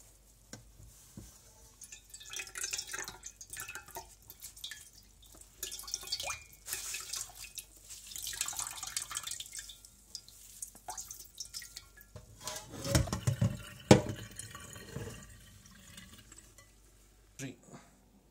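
Strained chhena for rasgulla rinsed under running water, with faint trickling, dripping and stirring at a quiet level and a few louder splashes near the end.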